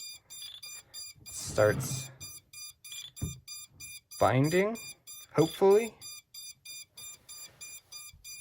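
A Radiomaster TX16S radio transmitter gives a steady run of evenly spaced high beeps while trying to bind to a GepRC TinyGO drone, close and continuous under someone talking.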